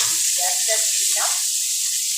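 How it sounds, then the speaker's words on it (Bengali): Chopped large onion dropped into hot oil already used for frying, giving a soft, steady sizzle with a brief louder crackle partway through, no talking. "এবার একই তেলে আমি প্রথমে দিয়ে দিচ্ছি একটা বড় সাইজের পেঁয়াজ"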